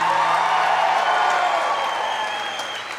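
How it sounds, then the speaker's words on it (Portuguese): A church congregation applauds loudly in a thick, continuous roar of clapping mixed with cheers, tapering off slightly toward the end. "Aplaude com força. Aplaude, aplaude."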